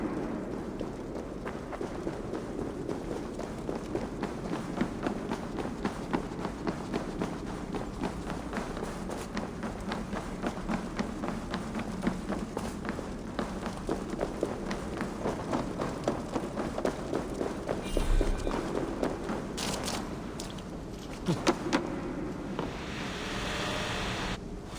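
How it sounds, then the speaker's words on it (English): Steady running footsteps in the video game Assassin's Creed Valhalla, rhythmic thuds continuing for the whole stretch over a constant airy background, with a couple of brief louder knocks near the end. "Footsteps."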